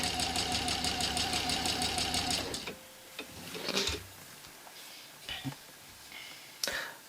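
A sewing machine stitches fabric strips onto a quilt square, running in a steady rapid mechanical rhythm for over two seconds, then stopping, followed by scattered clicks, fabric handling and small thumps nearby.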